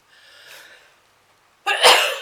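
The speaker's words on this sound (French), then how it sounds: "Je vais éternuer." A faint intake of breath followed by one loud, explosive sneeze up close, trailing off after a second.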